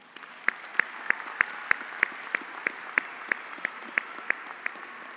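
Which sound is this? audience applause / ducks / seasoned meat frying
audience applause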